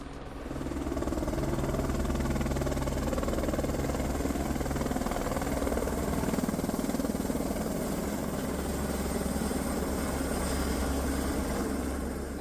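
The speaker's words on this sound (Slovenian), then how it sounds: "na deževne dni vklicali floto helikopterjev, ki so bili zadolženi za sušenje češenj po dežju" Helicopters fly low over a cherry orchard to dry the fruit after rain, giving a steady, loud rotor and engine drone that runs unbroken throughout with no talk.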